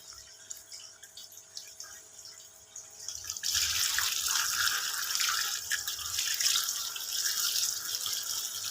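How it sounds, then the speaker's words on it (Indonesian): Running tap water pours over taro stems being rinsed in a sink, starting as a light trickle, then swelling into a loud, steady gush that continues to the end. "kita bilas dengan air yang mengalir biar getahnya itu betul-betul berkurang banget atau hilang"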